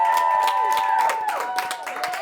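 A studio audience cheers and applauds to vote in a face-off on a college sports show, with dense clapping and whoops close by and a voice speaking over the noise.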